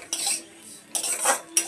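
Semolina stirred and fried in a pan for a spicy semolina sandwich, a metal spoon scraping and clinking against the pan in three short bursts with quiet gaps between.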